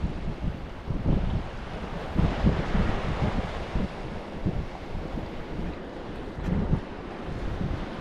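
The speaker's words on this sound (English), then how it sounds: "Oh geez, that wind's picking up. Yeah. That's heavy wind." Heavy wind gusts roar across an outdoor fishing spot during a thunderstorm, a loud continuous rush buffeting the microphone with surging peaks, with some low rumbling and water noise underneath.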